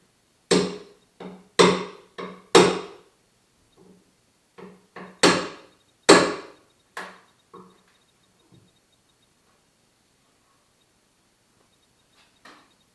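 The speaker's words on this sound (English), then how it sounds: "I've started to learn to appreciate the use of a chisel." Sharp, resonant mallet strikes drive a chisel into wood, landing in irregular bursts of two or three blows separated by pauses, close and loud in a quiet room.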